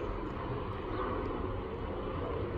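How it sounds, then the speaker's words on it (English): A steady, broad rumbling roar of an aeroplane passing overhead, constant and fairly loud throughout with no voices. "There's an aeroplane. I love the planes. They're noisy,"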